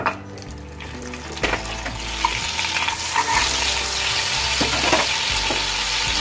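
White cooking oil and a little butter sizzle steadily in a pan, a dense continuous frying hiss with occasional louder clinks and stirring knocks, close and fairly loud, with no talking.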